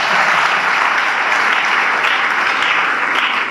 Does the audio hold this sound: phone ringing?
no